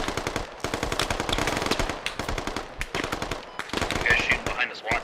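Gunfire in a video game firefight during a squad operation, rapid sustained bursts of automatic fire with short pauses, dense and loud, overlapping shots from several weapons.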